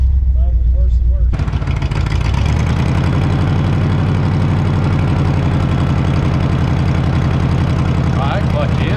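An old GMC truck, abandoned for 30 years, cranks and catches about a second in, then settles into a loud, steady, rumbling idle with a rough low throb, with a brief voice near the end.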